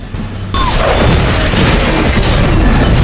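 A heavy, booming explosion from the film Iron Man 2 erupts suddenly, loud and close, followed by a long rumbling tail with crashing debris.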